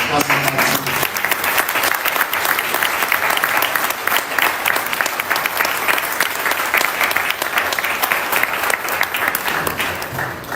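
Loud, sustained applause from an audience at a PTI political ceremony in the USA, a dense clapping roar that continues steadily and fades slightly at the end.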